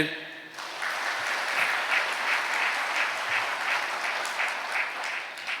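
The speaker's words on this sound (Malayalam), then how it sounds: "ഒന്ന് കൈയടിച്ചേ" An audience breaks into loud, sustained clapping at a Catholic talk, a dense, even wash of applause that holds steady for several seconds after a brief pause.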